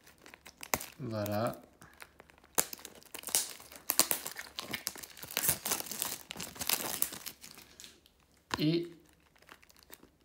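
A Yu-Gi-Oh! booster pack wrapper is torn open and crinkled up close, with bursts of foil crackling and tearing running through most of the stretch, mixed with a man's French speech and interjections.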